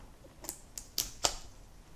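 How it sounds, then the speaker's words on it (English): Knife cutting open the packaging of a Nest Cam Outdoor box, a few faint sharp ticks and snaps spaced about a quarter second apart in a quiet room. "So got my knife here. Let's just cut up this"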